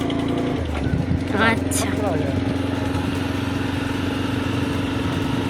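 A motorcycle engine runs steadily while a learner rider shifts gear, a close mid-pitched drone with a brief rise as the gear changes, with someone talking over it.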